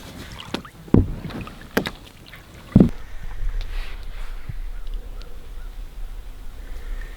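A canoe is paddled on wilderness water, heard as a few sharp paddle knocks and splashes near the start, then a steady low rush of water and wind.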